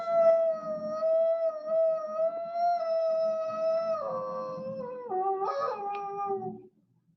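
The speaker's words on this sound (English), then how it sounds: "The howl of the wolf, but not just any wolf, the Mexican gray wolf." A Mexican gray wolf gives a long, sustained howl that holds steady and then drops in pitch in stages before fading out, clear and alone with no other sounds.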